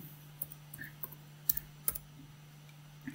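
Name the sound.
typing on a computer keyboard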